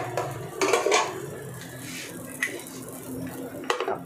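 A metal lid clanks down onto a pan of hot cakes cooking on the stove, giving a few close clattering knocks over a low background sizzle.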